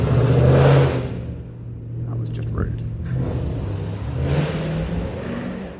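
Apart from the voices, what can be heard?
loud car driving past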